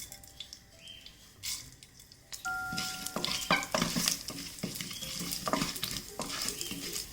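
Mustard seeds and dal frying in hot coconut oil inside a pressure cooker, a close sizzle with sharp popping crackles and a stir against the metal, growing busier and louder partway through.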